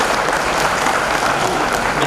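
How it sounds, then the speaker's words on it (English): A conference audience claps for the organizers of a national professional conference, a loud, continuous wash of hands from a large room lasting the whole stretch. "You can give a big hand, big clap to them for appreciate them"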